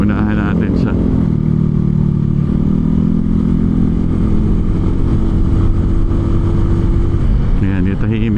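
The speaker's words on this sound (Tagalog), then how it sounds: "Maingay ng exhaust ni Kuya." A loud motorcycle exhaust drones steadily up close, a constant rumbling engine note with some clatter, while people talk over it throughout.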